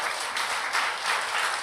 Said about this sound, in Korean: 우리 주님께 영광의 박수.